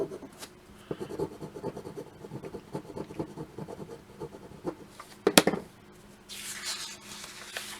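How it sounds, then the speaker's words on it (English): Bone folder burnishing tape along the stapled spine fold of a comic book: soft, close rubbing and scratching strokes in a steady back-and-forth rhythm, with a sharper scrape near the end and a brief hiss afterward. "Get my bone folder and"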